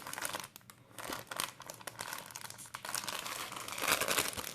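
Crinkly plastic packaging for inflatable children's swim armbands is handled and torn open, producing continuous close crunching and crackling that swells louder toward the end.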